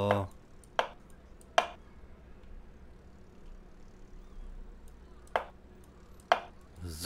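A knife chops meat into strips in the video game Cooking Simulator, with five sharp, sparse thuds spaced irregularly over a quiet, low background.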